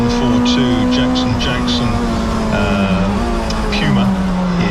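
Touring cars in a tin-top race at Castle Combe circuit roar past with a sustained engine drone that shifts pitch as they go by, under continuous trackside commentary.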